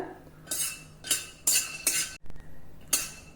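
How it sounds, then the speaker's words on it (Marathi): Peanuts dry-roasting in a pan over low heat, stirred in five or six distinct bursts of rattling, scraping clatter with short quiet gaps between, close and fairly clear. "हे शेंगदाणे देखील मंद आचेवर छान खमंग भाजायचे आहे."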